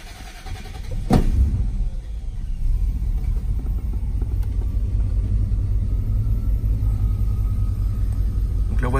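A 1994 Bentley car engine turns over with a brief starting burst, then settles into a steady, low idling rumble that continues up close.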